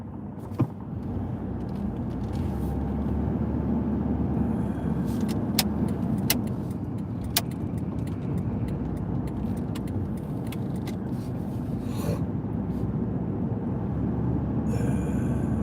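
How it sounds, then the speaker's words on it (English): Driving behind a slow-moving pickup truck towing a trailer on a road, with a steady interior car rumble, scattered light jangling clicks and a brief shift in the noise near the end. "Slow-moving pickup with trailer."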